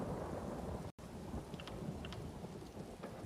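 A thunderstorm plays out in The Elder Scrolls Online video game, with steady dense rain and low rumbling throughout. It continues without a break apart from one momentary dropout.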